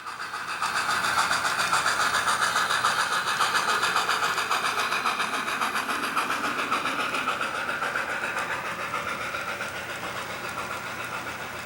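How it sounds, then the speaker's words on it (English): A model freight train runs along a club railroad layout, its small motor giving a steady whirring drone that holds evenly for several seconds before easing slightly. "The local freight passes CP Hayfield and continues on to its next customer."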